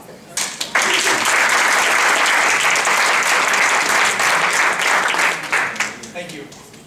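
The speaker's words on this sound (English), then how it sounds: "Please welcome him to the stage with your applause." A large audience at a Toastmasters speaking event applauds as a workshop presenter is welcomed to the stage, with loud, dense clapping sustained for several seconds before tapering off.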